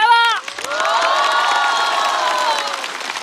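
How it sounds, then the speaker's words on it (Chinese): Studio audience at a stand-up comedy show cheering and applauding, a loud burst of shouts and whoops over dense clapping, continuing steadily with bright excited voices. "再次把热烈的掌声送给张俊"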